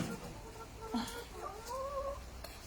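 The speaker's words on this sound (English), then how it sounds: "See all this chicken." Chickens cluck and murmur close by in a few short, scattered calls over a light outdoor background, with no one speaking.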